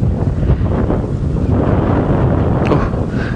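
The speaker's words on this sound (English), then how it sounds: "you might also be able to hear the wind." Strong wind buffets the microphone on an open safari drive at sunrise, making a continuous loud rumbling roar with no pauses.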